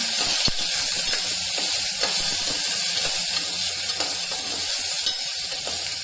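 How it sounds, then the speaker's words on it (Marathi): Spatula stirring broad beans with green peas and turmeric in a pan, scraping and clicking at irregular intervals over a steady hiss of cooking, close and moderately loud. "भाजी ढवळून घेतली"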